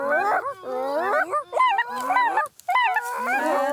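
Several people vocally imitate Canada goose calls in a rapid chorus of honking, yelping notes, loud and close with brief pauses, at a traditional conservation area.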